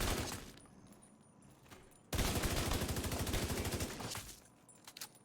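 Pistol gunfire in The Division 2 video game, a rapid run of sharp, loud shots fired in quick succession over about two seconds, then a trailing few, with no talk over it.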